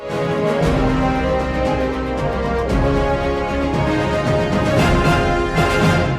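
A dense, full orchestral music track plays loudly and continuously, with layered sustained harmonies and swelling accents.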